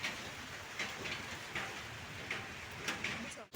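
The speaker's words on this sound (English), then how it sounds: "How are we doing this in the rain?" Rain falling in Nairobi, a faint steady patter and hiss with scattered drops tapping nearby surfaces under quiet background noise.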